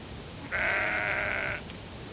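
A single sheep bleats in the fantasy video game Sudeki, one clear nasal bleat about a second long, close and alone, followed by a faint short click.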